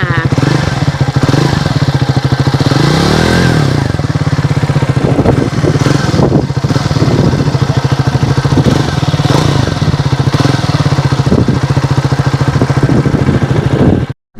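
Triumph Scrambler 400X motorcycle engine running loud and close, with a steady throbbing idle and several brief revs, cutting off abruptly at the end.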